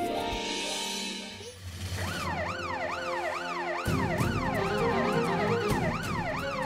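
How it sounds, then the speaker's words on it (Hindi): A police siren wails outside a house, its rising and falling sweeps loud and continuous after a brief stretch of other sound, growing fuller partway through with no talk over it. "ये तो दीदी पुलिस की सायरन की आवाज है और अपने ही घर के बाहर से आ रही है।"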